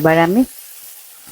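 Khesari (grass pea) greens drop into a hot pan already seasoned with ginger, turmeric and salt, giving a soft, steady sizzle that follows a brief spoken phrase and carries on quietly on its own.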